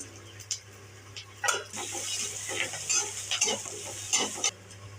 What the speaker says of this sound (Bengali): কড়াতে তেল দিয়েছি, কাঁচা লঙ্কা দিয়েছি, পেঁয়াজ দিয়েছি। হ্যাঁ, এবার ভেজে নিয়ে আমি আলুটা দেবো।